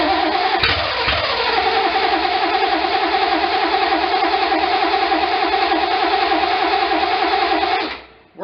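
A 1972 Triumph TR6 with no exhaust fitted cranks and catches, then runs loud and steady, a rough close-up engine drone that holds for several seconds before cutting off abruptly.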